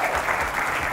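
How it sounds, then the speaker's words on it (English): A brief burst of audience applause at a talk on stock market trading, dense steady clapping from many hands, loud and continuous for under a second. "Can I get a round of applause for that?"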